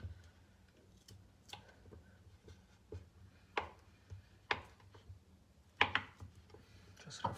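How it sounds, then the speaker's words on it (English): A knife rough-cutting butter into small cubes on a board for homemade meat pie dough gives soft, sparse taps and thuds at an irregular pace, faint and close against a quiet room. "Gonna cut the butter in small cubes so it will get easily soft."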